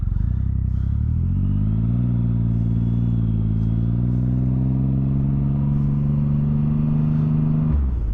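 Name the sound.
2013 Triumph Rocket III Touring motorcycle riding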